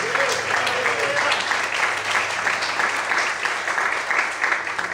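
A church congregation claps loudly and steadily for about five seconds as a dense, continuous wash of many hands. Voices and some shouting mix in underneath.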